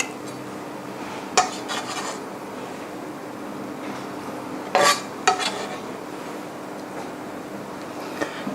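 Cut pieces of duck are set onto a plate with a few light clinks and scrapes of utensils against dishware, spaced apart over a quiet kitchen background hum.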